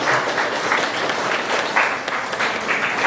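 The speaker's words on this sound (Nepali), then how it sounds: "सबैजना मिलेर हामी ताली बजाएर सबै निम्तालुहरूलाई धन्यवाद ज्ञापन गर्छौँ।" Wedding guests applauding together, a dense, sustained wash of clapping from a sizeable crowd that holds steady and loud throughout.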